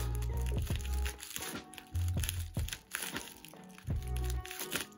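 Close-up crinkling and crunching of a parcel's packaging being cut open with dull scissors, several rough snips and tearing crackles with low thumps, no talking.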